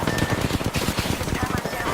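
Rapid Apex Legends gunfire rattles continuously in dense bursts, loud and close, with a voice partly mixed in underneath.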